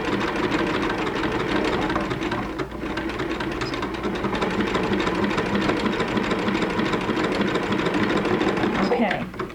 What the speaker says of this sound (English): For this, I'm going to use a zigzag stitch.